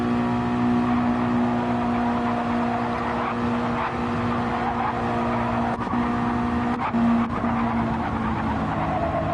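Race cars in a Gran Turismo 7 stock series race at Northern Isle hold a loud, constant engine drone with steady tire noise. A few brief clicks cut through near the end.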